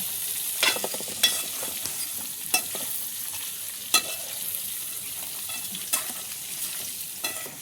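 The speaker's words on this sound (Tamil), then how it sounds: "எண்ணெயில் அப்படியே நண்டை பரட்டிடும்." Crab frying in hot oil while being stirred and turned, a steady close sizzle with several sharp utensil scrapes spaced through it and no talking.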